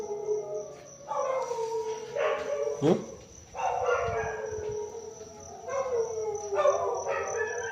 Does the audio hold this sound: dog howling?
yes